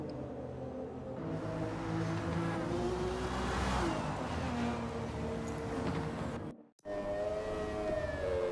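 Engine of a car in Gran Turismo 7 held at full throttle on a top-speed run, a steady loud drone with rising whine and wind roar that briefly cuts out before resuming.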